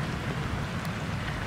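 Heavy rain easing off after flooding in Córdoba, a steady, dense hiss of rainfall on surfaces that stays even and close throughout, with no voices.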